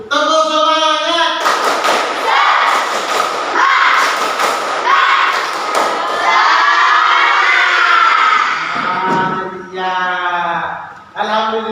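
A classroom of fifth graders performs a rhythmic clapping cheer, with bursts of loud claps and thumps mixed with children's chanting and shouting voices, closing in a final cheer.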